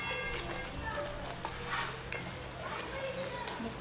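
A spoon stirs a simmering soybean chunk gravy after gram flour goes in, giving soft steady scraping and a faint sizzle against the pan, low and close with no break.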